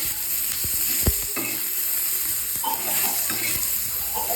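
Green chilies, garlic and peanuts roast in a hot pan with a steady close sizzle, punctuated by scattered pops and light scraping of a utensil, with no talking.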